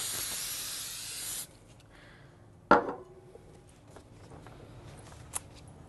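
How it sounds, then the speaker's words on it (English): A steady hiss of aerosol adhesive spray onto a printed image lasting over a second, then a sharp clack and a few faint handling taps in a quiet room. "I'm going to Pro Spray over my image."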